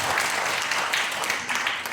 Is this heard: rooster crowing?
no